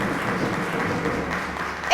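A studio audience applauds as a guest is called to the microphone, a short, steady, somewhat muffled patter of clapping that swells slightly at the end.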